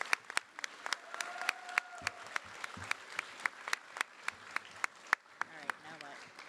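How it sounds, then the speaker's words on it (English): Sparse, individual claps ring out at a nursing pinning ceremony, spaced irregularly and fairly close, with a voice briefly audible among them. "Nursing students, do you want to give all your family and friends a big round of applause for helping you?"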